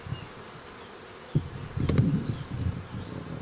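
Honey bees buzzing around an opened beehive during an inspection, with new honeycomb built inside; a low, continuous hum that swells and thickens partway through, close to the listener.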